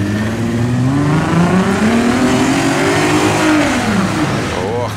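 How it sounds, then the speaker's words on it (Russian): A Lada Niva 4x4's engine revs and growls steadily, its pitch rising and falling, with a voice talking over the noise. "Только он рычит у тебя прям прикольно"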